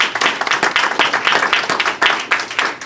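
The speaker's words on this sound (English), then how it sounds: "all of us should give each other a very warm round of applause for the work you've already done" A standing audience at a civil rights talk gives a warm round of applause, loud, dense clapping with rhythmic surges running throughout.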